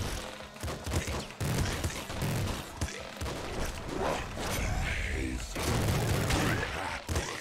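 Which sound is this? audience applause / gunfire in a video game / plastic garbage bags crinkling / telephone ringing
gunfire in a video game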